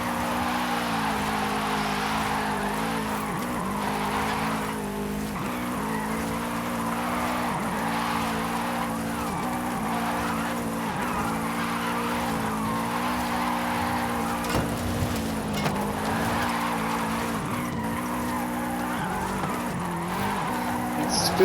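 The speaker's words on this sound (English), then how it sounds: "as if I am driving a rear-wheel drive drift car." A 1996 Subaru SVX, an all-wheel-drive car, drives and drifts in the racing game Forza Horizon 5, with a steady, close engine drone and repeated tire squeals as it slides through corners.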